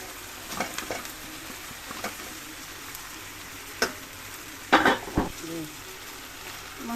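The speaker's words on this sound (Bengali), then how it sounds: "এখন ভেজে রাখা মাংসগুলো দিয়ে দেব।" Pre-fried chicken pieces are added to a hot pan for a spicy bhuna: soft sizzling with scattered stirring scrapes and a louder burst of spatter midway, with a voice speaking lightly over it.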